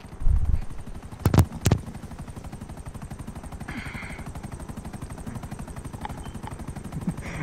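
Maverick helicopter in GTA, a steady rotor chop droning throughout, with a few sharp gunshot-like bangs near the start over the continuous beat.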